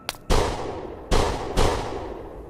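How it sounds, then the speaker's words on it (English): Three loud gunshots ring out with sharp cracks and short decaying echoes, spaced unevenly about a second apart. "The gunshots shattered the stillness of the night, echoing down the empty street."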